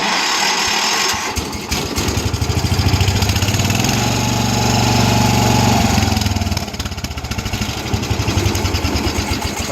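A riding lawn mower with a weak starter cranks over and catches, then settles into a loud, close, steady engine drone with a rhythmic pulse that rises and eases slightly.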